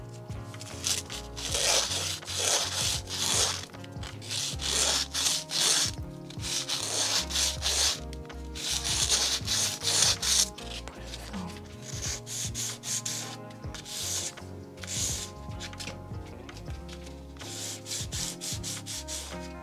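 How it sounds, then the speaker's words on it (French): Sterling 925 silver ring rubbed down with a homemade emery stick: repeated close, rasping back-and-forth strokes in steady bursts with short pauses, under faint background music. "On vient ensuite émeriser l'anneau avec un cabron émeri que je me suis fabriqué."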